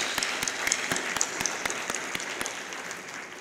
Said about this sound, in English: Could I have a round of applause for our students?